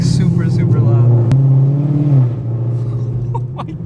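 A Camaro SS fitted with cheap, loud aftermarket headers revs from outside the car: a loud, close engine note rises and holds, then drops back to a rumbling idle, while people talk.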